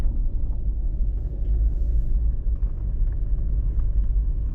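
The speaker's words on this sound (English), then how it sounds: "driving down this mountain on this snow-covered trail" A Jeep Wrangler EcoDiesel descends a snow-covered mountain trail: a constant heavy low rumble of engine and tires, steady and close inside the vehicle, with no talking.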